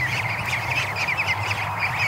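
A goose with a large flock of over a hundred ducklings, a dense continuous chorus of high-pitched peeping and calls, steady and close, with no talking.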